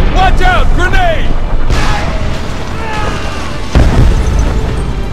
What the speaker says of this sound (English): Toss a grenade! Watch out! Grenade!